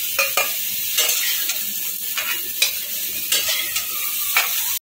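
Pieces of young jackfruit fry lightly in a pan: a bright, steady sizzle broken by several sharp scraping stirs, close and loud with no talking.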